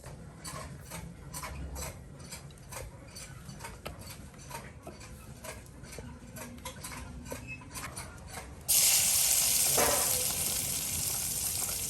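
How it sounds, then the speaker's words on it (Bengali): Mixed leafy greens frying in oil with dried chili: quiet ticking and faint crackle give way to a sudden, loud, hissing sizzle that continues steadily to the end. "একদম শুকনো মরিচ দিয়ে এই শাক ভাজা করা হবে"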